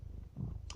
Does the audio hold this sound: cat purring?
yes